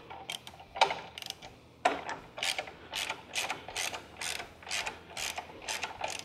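Ratchet wrench loosening hex head bolts threaded into aluminum on a 2016 Victory Cross Country motorcycle, a fast, steady series of close, crisp clicking pawl strokes after a couple of sharper initial clicks.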